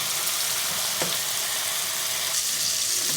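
A spice masala with green chilli, salt and sugar sautés in a pan for raw banana kofta curry, giving a steady sizzle with occasional stirring scrapes.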